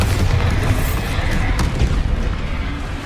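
A Bombarda explosion spell from the video game Hogwarts Legacy goes off as a loud, heavy boom with a deep rumbling blast that fills the moment without any talk.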